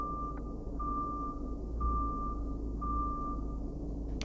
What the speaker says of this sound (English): I don't know why we were beeping there. It was as if we were reversing